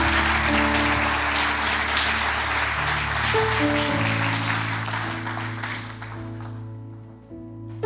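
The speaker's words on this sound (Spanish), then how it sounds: "¿Por qué no le damos un fuerte aplauso a nuestro Señor y por estos hermanos que están acá?" Congregation applauding during a Spanish-language church service, sustained clapping over held organ or keyboard chords, fading out toward the end.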